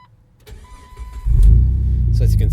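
A Jeep TJ engine with a straight-piped exhaust cranks and fires up, settling into a loud, deep, rumbling idle with a raw, unmuffled exhaust tone.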